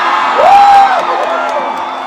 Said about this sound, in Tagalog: naririnig ko ba, hindi lang yung mga lalaki sumisigaw, pati yung mga dalaga humihiyak.